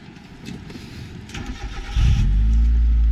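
An old, rusty car with a fuel leak and no power steering idles roughly, then its engine swells louder and steadier as it is driven off.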